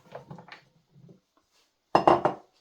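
Vegetables are laid into a baking pan for a fish dish, heard as a few soft close clatters followed by a louder cluster of clinks and knocks against the pan.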